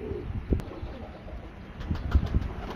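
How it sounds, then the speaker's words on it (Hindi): Sialkoti chapra pigeons cooing softly close by, with a few low murmuring coos and a brief flutter over a quiet, slightly noisy background. "ये कबूतर है"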